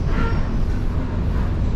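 Trains at a Moscow station, a loud continuous rumble and roar of rolling cars close by with no pause and no voices.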